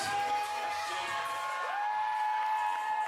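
A wrestling crowd cheers and whoops for Mystii Marks at a Dog Pound Championship Wrestling women's main event, a steady roar of voices with a sustained shrill whistle-like tone running through it.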